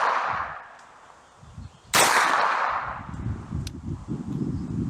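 Suppressed MP5 submachine gun firing 124-grain rounds outdoors, one sharp muffled crack with a hissing tail cutting through low background rumble, fairly close.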